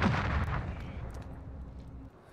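Gunfire and heavy explosive blasts in a video game shooter with a marksman rifle, loud and booming at the start and settling into a rumbling battle din, with no talk.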